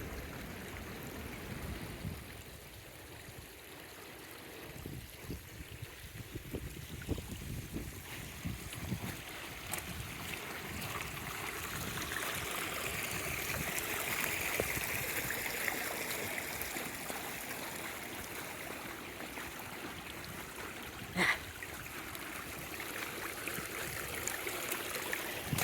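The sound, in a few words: stream water rushing down off the mountain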